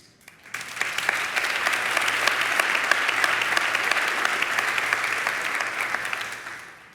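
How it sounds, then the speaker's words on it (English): Sustained applause from a large audience at a talk about at-risk foster teens, dense steady clapping that swells in quickly, holds evenly for several seconds and tapers off at the end. "They clapped just like you did right now."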